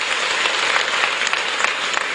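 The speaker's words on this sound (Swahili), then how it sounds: "Naomba tumpe makofi mengi sana sana." Applause fills a hall at a meeting of SADC ministers and employment-sector stakeholders, honouring the SADC executive secretary: a dense, even wash of many hands clapping, loud and sustained throughout with no talking.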